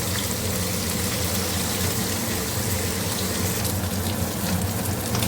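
Running water pours steadily over an old, stained wok being washed, giving a dense unbroken rush and splash throughout, loud and close.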